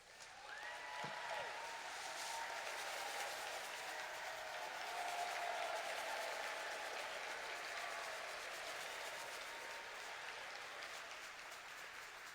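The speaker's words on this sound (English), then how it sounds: "let's give them a round of applause" A steady, even wash of applause from an auditorium audience at the Brooklyn Tech Centennial Homecoming, honoring class reps, sustained throughout at a moderate distance with faint cheering tones riding over it.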